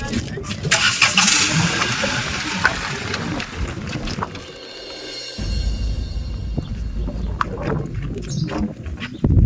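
A motorbike engine cranks and catches, revving up loudly nearby, with people talking around it.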